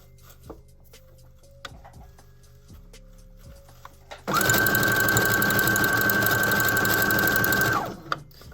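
A sewing machine stitching hair wefts onto a wig dome cap: a few light clicks and handling taps, then a loud, steady run of rapid stitching that lasts several seconds before stopping abruptly.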